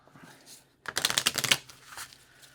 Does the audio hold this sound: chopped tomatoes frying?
no